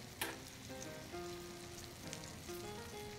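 Floured pork chops sear in a cast iron pan with a steady, low crackling sizzle, faint and continuous with soft occasional pops.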